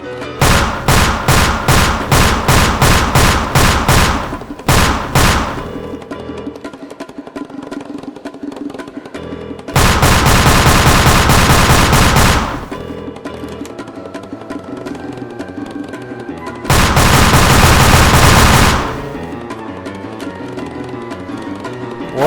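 A LEGO Team Fortress 2 Scout blaster fires as a loud rapid burst of repeated shots, then two further long, dense blasts of fire separated by quieter stretches, with no talking.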